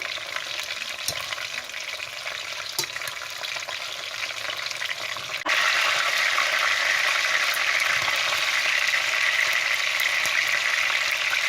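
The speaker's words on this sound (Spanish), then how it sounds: "Pondremos el fuego alto para sellar bien este lado" Oxtail pieces sear over high heat in a pan for a traditional Córdoba-style braise, a loud steady sizzle that swells suddenly halfway through and keeps crackling close up with no voices.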